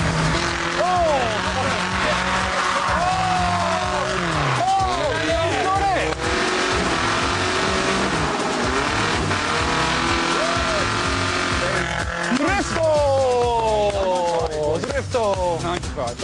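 A kei mini truck drifts and spins on a track, its small engine revving while tires squeal in repeated, wavering bursts, loud and close, with excited commentary over the top.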